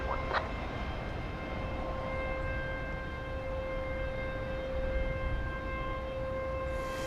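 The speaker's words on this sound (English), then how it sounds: "That's the siren-like sound you hear coming from the UPS depot." A steady, high whining tone with several sustained pitches drones on over a constant background rumble, an air-start unit at a UPS depot at night at DFW Airport, sounding like a distant siren.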